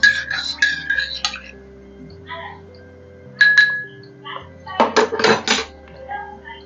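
A spoon stirring South Indian filter coffee in a cup, bright clinking taps in short clusters against soft background music, with a voice speaking briefly.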